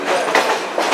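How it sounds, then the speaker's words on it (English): Rail cars pulled by GSMR steam locomotive 1702, a Lima or Baldwin built 2-8-0, roll past close by on an excursion, a loud continuous rumble with faint rhythmic clatter. "just please enjoy the sounds of the train"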